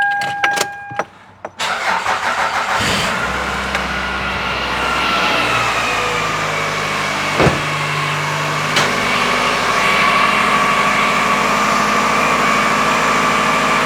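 A car engine with a weak starting system cranks in a few rough pulses, catches, and settles into a steady high idle that holds close and loud to the end.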